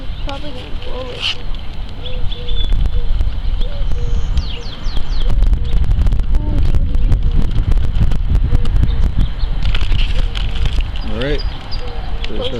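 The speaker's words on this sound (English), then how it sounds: "It's windy out here." Strong wind buffets the microphone outdoors beside a pond, a continuous roaring gust with brief voices and a few bird chirps poking through.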